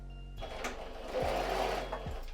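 A sewing machine runs steadily while stitching a wig, its fast mechanical hum carrying on close by for the whole stretch, with a couple of small clunks as the stitch shifts between forward and backward.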